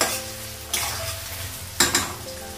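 Onions with green and black cardamom frying in a pan, a steady close sizzle broken by two louder bursts of stirring scrapes.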